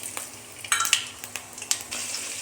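Fennel seeds, spices and onion frying in hot oil in a wok, a quiet sizzle with a few sharp clinks and stirring scrapes.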